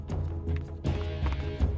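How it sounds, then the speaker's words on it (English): Footsteps in the stealth video game Metal Gear Solid 3: Snake Eater, a series of muffled, irregular thuds close by, a few steps per second, with no talking over them. "I hear the footsteps and it's irritating me."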